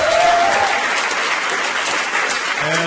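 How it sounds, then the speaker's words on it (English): An audience clapping at a stand-up comedy show in New York, a dense, steady burst of applause from a club crowd that holds at full strength before easing slightly. "And that's great you clapped at that"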